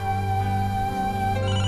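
A phone rings steadily at home, an unbroken electronic ringtone that stays loud and close with no talking over it.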